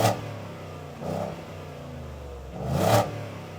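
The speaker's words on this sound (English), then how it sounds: "it sounds so much better than a stock F-150 with the exhaust and the V8 does" A Roush F-150 pickup with a V8 and performance exhaust revs three times, each short, loud throttle blip rising and falling back to a rumbling idle, with the first and last revs strongest.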